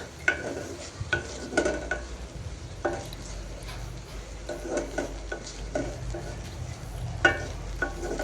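Haleem being stirred and heated in a pan, with intermittent scraping strokes of a spoon against the metal and a faint sizzle underneath, close and moderately loud.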